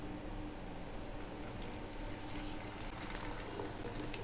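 A paratha sizzles in hot oil in a pan: a soft, even, continuous frying hiss with a faint crackle now and then, low and close.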